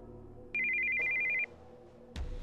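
Cell phone ringtone for an incoming call in the visual novel Steins;Gate 0: one clear, steady electronic tone lasting about a second, over a soft background music bed.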